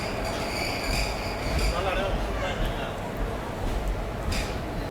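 Electric-hauled passenger train on the fully electrified Pamban route near Mandapam station, with a steady close rumble of carriages and faint wheel squeal throughout, and voices murmuring in the background.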